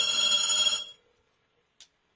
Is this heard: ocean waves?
no